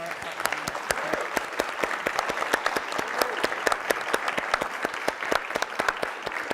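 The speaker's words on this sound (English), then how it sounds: "A huge round of applause for our panel" Audience applause for a panel discussion on climate collapse and imaginary worlds, a steady dense patter of many hands clapping that holds evenly throughout without voices.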